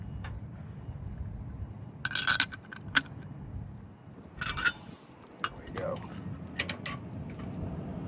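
Metal wrench clinking and clanking as it is handled while mounting a trailer spare tire, with several sharp metallic taps and clinks scattered over a low background rumble.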